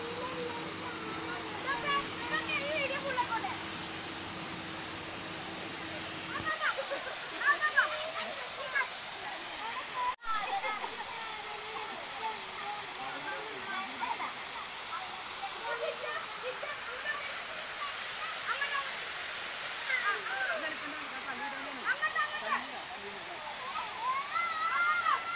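A waterfall rushes in a steady broadband roar where children play in the water, with indistinct voices and splashes mixed into the constant noise.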